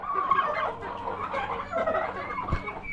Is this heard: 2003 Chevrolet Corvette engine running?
no